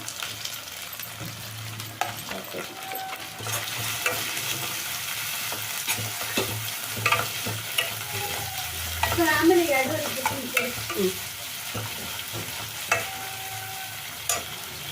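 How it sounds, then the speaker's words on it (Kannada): Tomato frying in oil in a pan, a continuous close sizzle with bursts of spatter and repeated stirring scrapes throughout, no one talking. "ಈಗ ಇದು ಫ್ರೈ ಆಗಿದೆ. ಟೊಮೆಟೊ ಸ್ವಲ್ಪ ಹಾಕ್ಕೊಳ್ತಾ ಇದ್ದೀನಿ."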